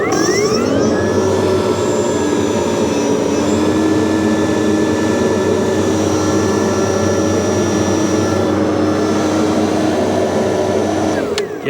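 A STIHL SHA 56 battery-powered shredder vac runs close up with a loud, steady whine and rushing airflow, holding constant for the whole stretch before cutting off at the end.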